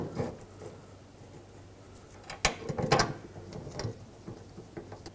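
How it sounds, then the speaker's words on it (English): Bolts are tightened on a liftgate latch of a 2005-2009 Chevy Equinox. Quiet mechanical clicks and ratcheting come in short bursts, with a sharper metallic knock midway, close and fairly faint. "let's tighten up the bolts."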